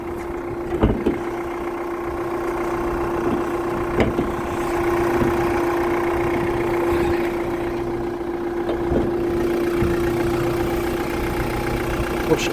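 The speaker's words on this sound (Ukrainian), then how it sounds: "Нам послухати, як працює двигун, двигун працює" A 2021 Renault Master van's 2.3 dCi diesel engine idles close by with a steady, even rumble and a constant hum, punctuated by a few faint knocks.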